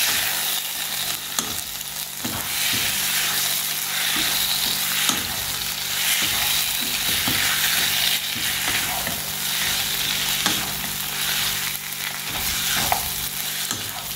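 Mutton biryani masala stirred and fried in a pan, a steady loud sizzle with repeated scraping strokes of the spoon at an even rhythm throughout, no voices.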